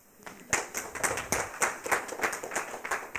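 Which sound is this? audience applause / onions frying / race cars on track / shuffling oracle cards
audience applause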